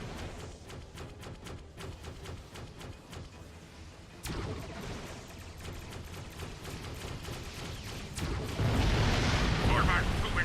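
Starship combat in Star Trek Online with torpedoes firing, a run of rapid repeated sharp shots followed by heavier booming blasts that grow louder toward the end, with a voice talking over the fire.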